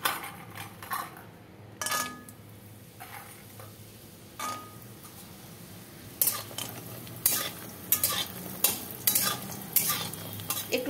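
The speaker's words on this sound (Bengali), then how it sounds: "একটু বড়িটা ভেজে নেব আগে।" Lentil dumplings (bori) fry in oil in a wok, a steady soft sizzle under repeated scraping and stirring clatters of a utensil against the pan, growing busier toward the end, with no speech.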